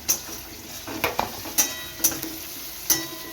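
Potatoes frying in garam masala in a pan, a soft steady sizzle broken by several sharp clinks of a spoon or spatula stirring against the metal, close and moderately quiet.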